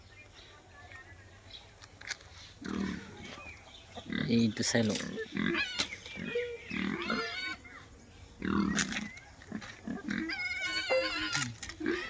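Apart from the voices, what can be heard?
pigs grunting on a pig farm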